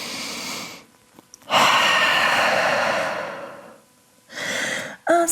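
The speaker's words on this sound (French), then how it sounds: "Grande respiration en chien tête en bas." Deep, slow breaths taken while holding a downward dog yoga pose: a long loud exhale, a pause, then another shorter breath and a sharp intake at the end, close and alone.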